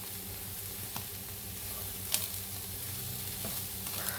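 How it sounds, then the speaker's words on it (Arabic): Samosa filling of chicken breast and carrots sautés in a pan, a steady close sizzle with faint stirring scrapes and no talk over it. "احنا كده بنشوح الحشو بتاع السمبوسه اهو، البانيه والجزر"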